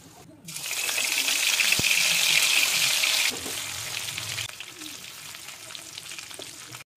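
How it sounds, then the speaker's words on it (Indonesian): Loud, crackling sizzle as chicken hits hot oil, bubbling steadily at close range and then settling into a softer, continuous fry. "aku goreng ayam goreng nih teman-teman, untuk teman lauknya makan si sambal goreng"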